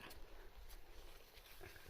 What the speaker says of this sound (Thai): มาเขาก็เห่าอยู่นั่นอะ